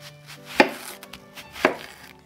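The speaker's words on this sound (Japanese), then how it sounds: "新玉ねぎは皮を剥き、厚めにスライスします" Two crisp knife chops slice thickly through a new-season onion on a cutting board about a second apart, each a sharp sliced crunch in an otherwise quiet setting.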